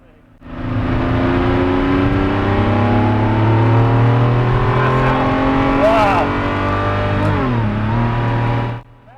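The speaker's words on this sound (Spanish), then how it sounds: "Eso es lo que obtienes cuando pones un motor de Fórmula 1 en un coche de carretera." A 1995 Ferrari F50, with a Formula 1-derived engine, climbs in pitch and roars loudly, with a couple of sharp blips near the end before cutting off.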